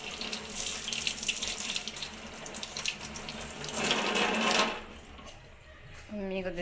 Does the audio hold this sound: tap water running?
yes